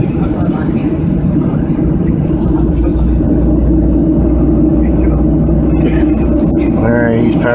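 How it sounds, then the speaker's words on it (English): A small airplane engine droning steadily and loudly as it powers up for takeoff, a constant heavy rumble close by with someone talking over it. "he's powering up to take off."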